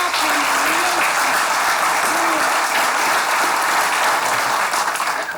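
A studio audience at a Turkish comedy game show breaks into steady, dense applause for an older contestant, a loud, even roar of many hands clapping that holds for several seconds with faint voices underneath.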